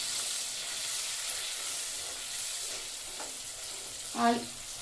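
Potato pieces fry in a pan with a soft, steady sizzle, faint and close, and a short louder scrape or clink of stirring near the end.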